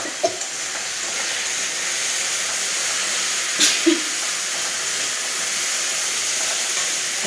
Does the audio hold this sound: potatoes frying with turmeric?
yes